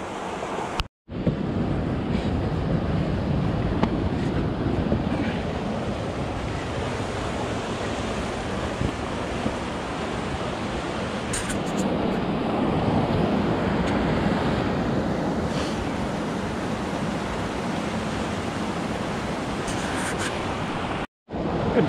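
A South Westland river in New Zealand rushes past close by, producing a loud, steady broadband roar that lasts throughout with slight variation. Faint wind buffets the microphone at times.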